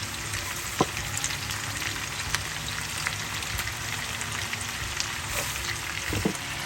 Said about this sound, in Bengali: এখন আমি এই সব সবজিগুলোকে একটু ভালো করে ভেজে নিই